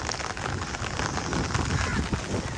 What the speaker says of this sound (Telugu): చూసారా ఎంత వర్షం, నేను గొడుగులు ఉన్నా.